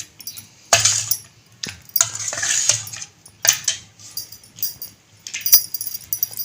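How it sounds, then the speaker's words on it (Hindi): A spoon stirs cumin into yogurt raita in a bowl, giving intermittent bright clinks and scrapes against the dish at close range. "तो इसे मिक्स करूँगी अच्छी तरीके से।"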